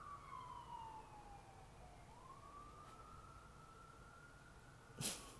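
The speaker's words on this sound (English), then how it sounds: "Let the siren go by." A siren wails past at a distance, its pitch sliding down then rising again, steady and moderately faint over a low background rumble.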